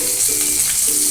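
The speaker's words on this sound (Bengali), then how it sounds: "এবার ওই তেলেই আমি কিছু ফোড়ন দিয়ে দিচ্ছি।" Whole spices (black peppercorns, cardamom, cloves, bay leaves) hit hot oil for a Bengali-style mutton curry, giving a steady, loud, close-up sizzle and hiss with no pause and no voices.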